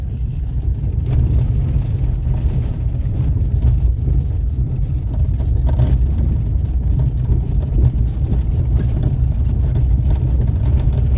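A 2007 Chery QQ small hatchback sits with its engine running steadily, a constant low rumble and hum heard close up for the whole stretch, without speech or revving.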